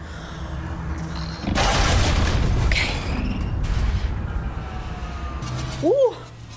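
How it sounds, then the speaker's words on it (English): A huge gun fires in the Mass Effect 3 video game: a loud, broad boom lasting a second or two, with rumbling tail and further mechanical game sounds, then a short electronic chirp near the end. "That was a huge gun."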